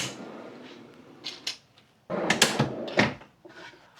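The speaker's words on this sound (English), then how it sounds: "Our drawer system slides right on out." A modular drawer system slides out of the cargo area of a Lexus GX460: soft scraping and rolling followed by a louder burst of rattling clunks as the drawer runs out and stops, close and clear.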